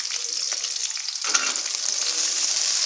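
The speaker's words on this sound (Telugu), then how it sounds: "వన్ మినిట్ ఆయిల్లో ఫ్రై చేసేసుకోవాలి" Mustard seeds crackle and sizzle in hot oil, the spattering rising sharply about a second in and holding as a steady, close hiss.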